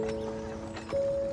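A horse is heard nearby, with soft hoof clops and snorting breaths over a steady tonal background hum.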